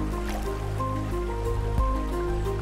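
Guiers Mort, a clear mountain river, flows in a steady, full rush with trickling and dripping detail over a low constant roar, close and continuous.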